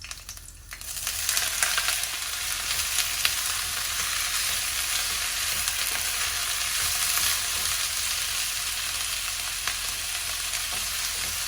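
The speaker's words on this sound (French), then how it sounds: "Une fois que mon huile est bien chaude, je vais y déposer donc les légumes que j'ai découpés" Chopped onions, garlic and bell peppers sizzle in hot olive oil in a pan, a loud continuous crackling fry with an initial burst as the vegetables hit the oil, heard close and alone.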